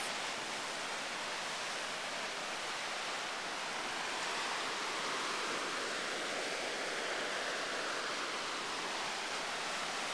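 Ocean waves break on rocks below coastal bluffs as a steady, dense wash of surf with a slight swell midway, with no voices.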